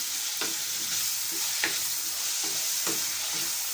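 Drumstick pieces fry with salt in a pan, giving a steady sizzle broken by occasional stirring scrapes, close and fairly quiet with no voices.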